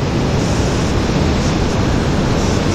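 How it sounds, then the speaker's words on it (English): Water pours through the spillway of Big Bend Dam above Lake Oroville, a loud, steady, broadband roar that continues unbroken and without talk. "I'm gonna walk up here to where the water's spilling through."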